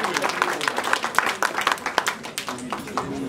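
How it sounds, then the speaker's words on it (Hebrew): Audience applause for library staff at a municipal library event: a scattered round of hand clapping, moderately loud and fairly even throughout, with a voice speaking faintly underneath. "ומגיע להם מחיאות כפיים"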